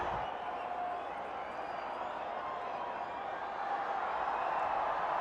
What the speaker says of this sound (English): And the crowd is jubilant.